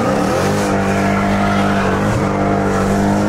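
A brand-new Dodge Hellcat with straight-piped exhaust in track mode roars loud and close, a continuous heavy engine drone with revving swells and no talking.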